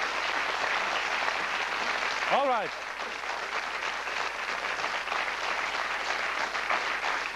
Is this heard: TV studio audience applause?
yes